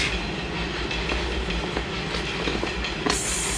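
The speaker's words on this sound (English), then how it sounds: "Guys, excuse the train in the back." A train rumbles past steadily in the background, with continuous rail noise and wheel clatter filling the whole stretch and a brighter squeal near the end, and no one speaks.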